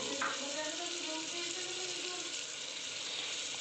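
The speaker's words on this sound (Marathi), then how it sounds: "आपली मटकी आता चांगली परतली गेलेली आहे" Matki (moth beans) sautéing in a pan with black masala and chopped coriander: a quiet, steady sizzle runs throughout, with faint soft tones under it and no clear stirring strokes.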